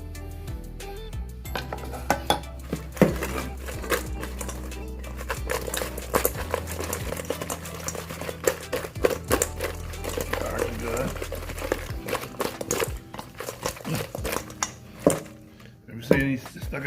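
Chicken wings coated with Parmesan get tossed and scraped around a bowl, producing irregular clattering knocks and scrapes over a steady low hum, with intermittent louder clanks.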